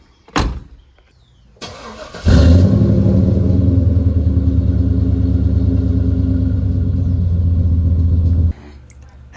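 A car engine starts after a few clicks and thuds, then idles and rumbles steadily up close before cutting off near the end.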